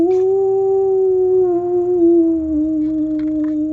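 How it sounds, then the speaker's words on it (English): Eerie howling music for a space station scene holds one loud, steady wavering tone with little change throughout, unbroken and alone. "They always put that sort of weird howling music in space,"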